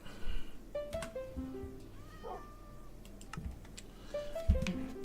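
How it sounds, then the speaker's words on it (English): A cat meows twice in the Minecraft game, each call a short rising-and-falling wail, with soft clicking in the background. "I hear you, cat."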